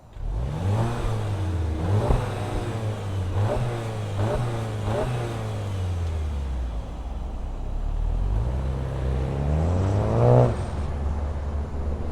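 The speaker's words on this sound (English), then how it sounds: "let's fire it up and hear what kind of sound it makes" A 2025 VW Jetta GLI sport sedan engine starts and then revs several times, its pitch climbing and falling in repeated swells over a steady loud idle, heard up close with no voices.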